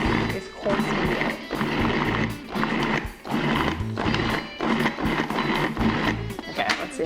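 A food processor pulses a pie crust mixture down to a coarse meal. Loud, grinding whirrs come in short repeated bursts with brief pauses between them.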